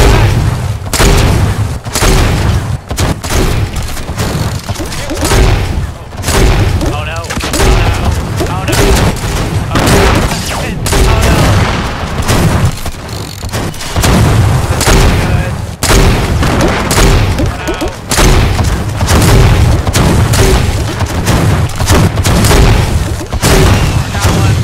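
Guided missile explosions in the Fortnite High Explosives mode, a long barrage of loud booms and gunfire-like blasts in near-constant succession, with players talking over the din.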